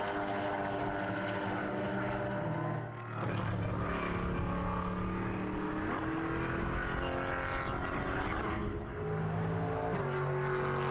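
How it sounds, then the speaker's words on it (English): Chevy V8 race car engine droning steadily on track during a GT sprint qualifying session at Portimão, a loud continuous multi-toned roar with layered harmonic engine notes and brief dips as cars pass. "You can still hear the Chevy V8"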